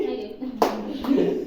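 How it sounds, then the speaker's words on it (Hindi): Hands clap a few times at a home birthday celebration, close and uneven, with a voice heard alongside. "ताली बजा ताली"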